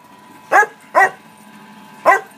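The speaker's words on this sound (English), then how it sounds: "Same with my brew dog Spence, he wants to play" A home brewer's dog barking three times, two quick barks close together and a third after a short pause, fairly loud and close over a quiet background.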